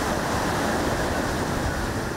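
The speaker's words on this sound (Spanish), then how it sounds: "Impacto fuerte de las olas" Strong sea waves pounding the shore at La Libertad port on the Salvadoran coast during rough seas and wind, a loud continuous roar of surf filling the whole moment with no voices.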